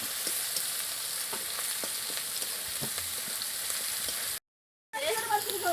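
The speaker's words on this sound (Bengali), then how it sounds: "এবার মশলাটাকে ভালো করে মিক্স করে নিতে হবে।" Spices fry with chilli and turmeric in a pan, giving a constant sizzle broken by spoon scrapes as they are stirred, then a brief silent gap and a louder sizzling burst.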